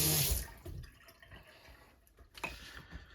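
Water runs briefly from a kitchen tap while a sourdough starter jar is rinsed, a loud splashing burst at the start that settles into softer trickles and drips, with no talking.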